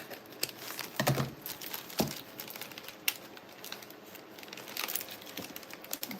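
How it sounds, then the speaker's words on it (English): Paper has its top strip cut off up close, giving dry crinkling, crackling and tearing-like sounds in uneven bursts. "Let me cut that little top portion off."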